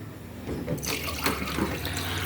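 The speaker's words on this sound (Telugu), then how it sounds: "వాటర్ సరిపోలేదండి, ఇంకొక గ్లాసుడు వేసుకుంటున్నాను ఉడకడానికి" Water pours from a glass into a cooking pot with tamarind juice suddenly after a brief pause, a loud, close gush that splashes and fills the pot for the rest of the moment.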